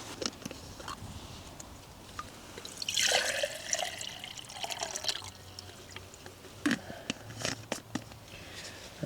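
Boiling water poured from a small camping stove pot into a meal pouch outdoors, a faint steady trickle with light splashing and occasional drips, quiet and close with no talking.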